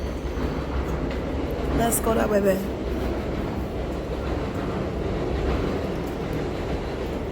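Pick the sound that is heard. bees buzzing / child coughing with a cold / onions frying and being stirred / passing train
passing train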